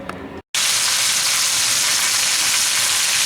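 Floured sage chicken legs hit a hot pan and saute with a loud, dense, continuous sizzle after a brief pause, close and steady with no talk.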